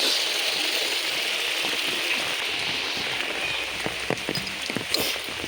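Steady, continuous monsoon rain in the Konkan pours down in an even hiss, with nearby drips and splashes picking out sharper patters toward the end.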